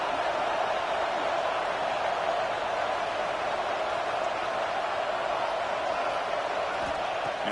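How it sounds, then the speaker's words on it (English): A football stadium crowd roars steadily and loudly during a Nebraska versus Michigan State game, a sustained wash of massed voices trying to rally the defense before a goal-line play. "here comes the noise. This crowd is trying to inspire this defense to make a big red zone stop."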